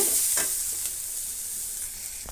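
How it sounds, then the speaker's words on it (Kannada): A spice mixture with chili powder and garam masala frying in a pan, a brief close hissing sizzle with a few soft stirring scrapes. "ಈಗ ಅದನ್ನು ನಾವು ಚೆನ್ನಾಗಿ ಫ್ರೈ ಮಾಡೋಣ"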